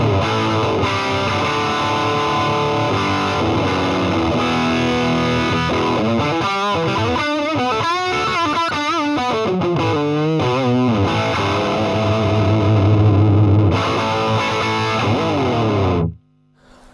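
Thick, saturated electric guitar runs through an Orange Rocker combo amp at half a watt, a steady dense distorted tone with sustained chords and busier note runs, ringing alone and cutting off sharply near the end.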